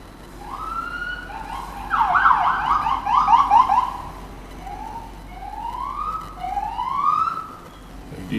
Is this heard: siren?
yes